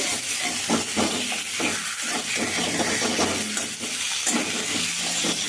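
Cinnamon pieces and two crushed cardamom pods are stirred in a teaspoon of hot oil, giving a continuous close sizzle with rhythmic scraping strokes of the spoon.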